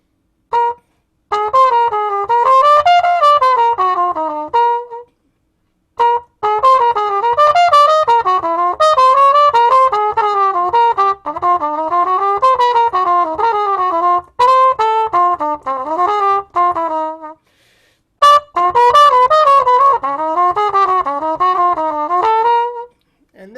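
A melodic improvised blues line of quick, winding notes plays over chord changes in several long phrases broken by brief pauses, loud and close, with no voices.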